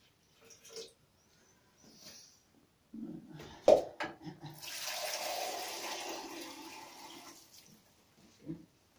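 Water runs into a tall sensory bubble tube during cleaning, a steady pouring wash that rises after a brief knock, with soft clatter before it and a short thump at the end.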